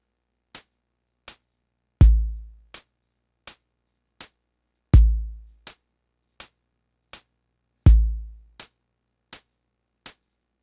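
A steady metronome-like click pulse at 82 beats per minute, with a deep booming bass hit landing on every fourth beat; crisp, evenly spaced ticks alone, no voices.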